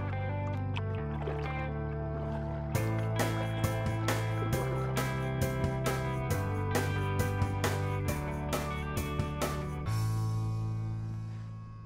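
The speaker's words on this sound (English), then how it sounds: "Basically, just do some general paddling right here." A kayak paddle with a fiberglass shaft and ABS plastic blades strokes through water in a steady rhythm, giving close, repeated splashes and drips. A low steady hum runs underneath.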